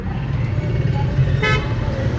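Busy road traffic in Pakistan with a steady low rumble of passing vehicles and a short car horn toot near the middle, loud and close.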